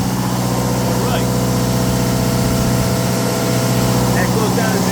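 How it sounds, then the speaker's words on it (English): An Onan DJB generator engine runs steadily at a constant idle-like drone, close and loud, with an even mechanical hum and no change in pace on a cool rainy December day. "right now, we're running with just the primary generator, the DJB"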